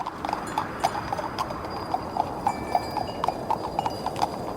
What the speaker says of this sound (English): Go horses, run. Move those damn hooves